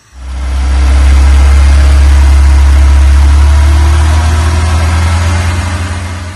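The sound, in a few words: van engine running with throttle opened during fuel tuning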